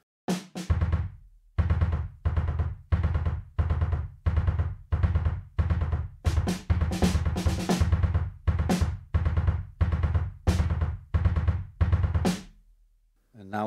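Addictive Drums virtual drum kit heard through its soloed room mic track: a steady groove of roomy kick and snare hits with cymbal crashes, ringing with ambient space and ending in a decaying tail.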